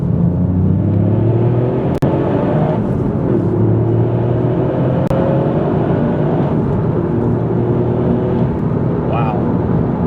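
A Toyota GR Yaris engine revs on an open road, its note climbing and falling through gear changes under steady wind and road rumble, heard from inside the cabin for about ten seconds.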